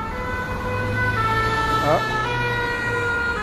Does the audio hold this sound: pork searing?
no